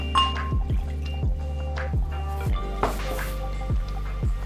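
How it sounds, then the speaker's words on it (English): Red wine vinegar is poured for a slaw dressing in a kitchen, making a quiet stream with a series of soft dripping, glugging pulses at a regular pace, close by and without talk. "I'm gonna start with some red wine vinegar."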